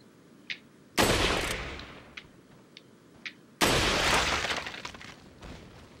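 Shotgun and rifle shots in the video game Resident Evil 4: two loud, heavy blasts, each trailing into a long rumbling decay, with a few faint sharp clicks between them.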